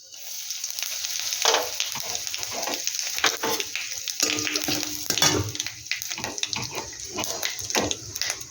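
Whole cumin seeds and asafoetida sizzling in a spoonful of hot oil in a wok, a steady bright frying hiss with occasional stirring scrapes throughout.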